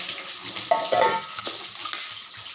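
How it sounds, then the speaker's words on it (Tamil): Onions sizzle and crackle in a hot pan after mustard seeds have popped, while a utensil stirs and scrapes, with a steady hiss throughout. "கடுகு பொரிஞ்சிட்டு இந்த வெங்காயம் போட்டாச்சு காய்ஸ்"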